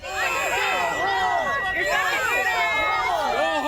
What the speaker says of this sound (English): A crowd gathered behind the police tape, shouting at ICE officers in anger